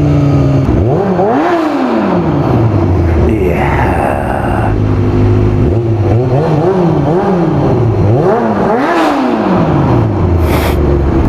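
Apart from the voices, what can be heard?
motorcycle exhaust revving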